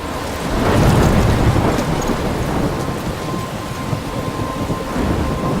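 Loud thunderstorm in the game Life Is Strange: a heavy rumble of thunder swells early, over a continuous dense roar of rain that stays steady and close throughout.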